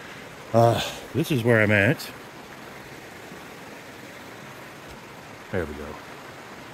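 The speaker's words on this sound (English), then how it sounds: "I think this is the Skagit River, but I'm not positive." The Skagit River flows as a steady broadband wash running throughout, with someone talking briefly near the start and again near the end.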